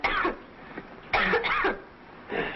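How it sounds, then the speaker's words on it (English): A young boy coughs in a classic 1950s Western film scene, giving three harsh, throaty bursts spaced over a couple of seconds, close and fairly loud, alone without talk. "that's quite a cough you've got there, son"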